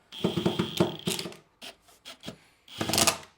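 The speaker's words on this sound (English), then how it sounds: "you just line it up and you just start screwing it in place" A handheld screwdriver drives cam bolts into the wood of a rustic bookcase, close-up rhythmic scraping and rubbing strokes in short bursts with brief pauses.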